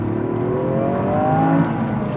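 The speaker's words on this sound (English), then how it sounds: "this thing loves to rev. It really is a smooth revving motor" Engine of a 2023 Toyota GR Yaris Rallye climbing smoothly through the revs while driving, a steady rising drone heard from inside the cabin with a gradual upward pitch sweep and no talking.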